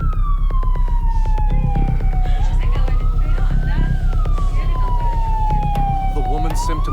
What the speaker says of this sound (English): the ambulance rushes her to a nearby public hospital